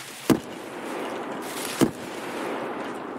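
Two sharp gunshots fired at a Scav in Escape from Tarkov, spaced about a second and a half apart, loud and close over a steady ambient background with no talk.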